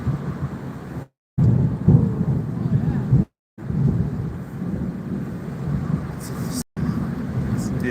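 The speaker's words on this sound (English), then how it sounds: "So I'm hearing the thunder from Oysterville." Thunder from a coastal thunderstorm near Oysterville rumbles low and distant, a deep sustained roll with wind buffeting the microphone, broken by brief dropouts, while people talk over it.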